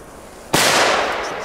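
A Jumbo Titanium Cracker 2.0 firecracker goes off outdoors in Belgium with one sharp, loud bang after a quiet moment, followed by a broad crackling wash that slowly fades.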